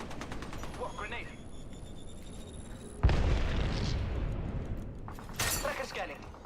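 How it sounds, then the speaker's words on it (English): Grenade explosion in the battle royale game Apex Legends: a single sharp, loud boom lands midway and leaves a rumbling tail, with scattered gunfire and a voice heard around it. "Whoa, grenade."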